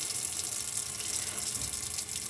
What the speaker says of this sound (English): Open all the taps up on the hot side of the water system.